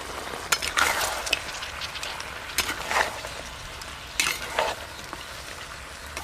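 Softened onions with ginger-garlic paste fry in a pan under a faint, low sizzle, with occasional scrapes and knocks of a stirring spoon at close range.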